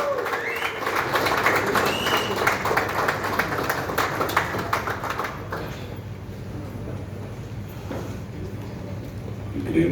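A crowd at a celebration of the Karnataka Bulldozers' CCL win applauds as Kiccha Sudeep is welcomed to the stage, thick clapping that fades and thins after about five seconds to scattered claps over room noise.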